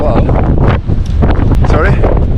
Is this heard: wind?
yes